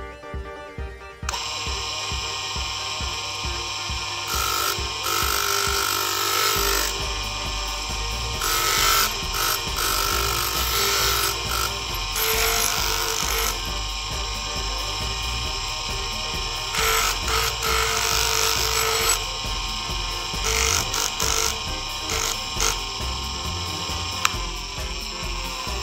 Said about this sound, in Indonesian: Kita amplas bekas-bekas solderannya ini, kita amplas.